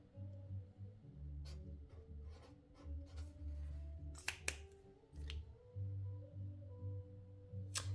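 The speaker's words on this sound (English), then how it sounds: "I am going to write the word top" A pen writing on a diamond painting canvas, a quiet, close scratching made of short strokes and taps with small pauses between them, over a low background hum.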